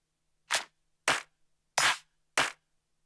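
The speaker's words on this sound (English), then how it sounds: "Drum one shot, claps." Four sharp, bright clap drum one-shots triggered on an Akai MPC One, evenly spaced about half a second apart, each dry with a quick decay and silence in between.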